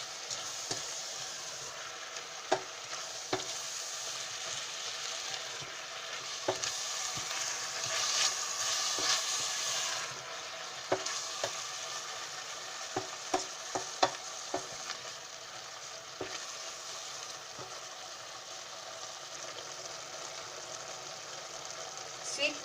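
Beef goulash frying in a pot while being stirred, a continuous sizzle broken by repeated sharp spoon scrapes and knocks against the pot, close and fairly quiet.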